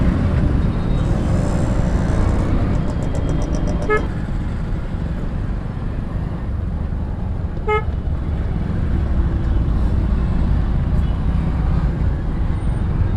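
Busy morning road traffic in Pune: a dense, constant rumble of engines and road noise, with a couple of short horn toots ringing out near the start and midway, heard close up amid the flow.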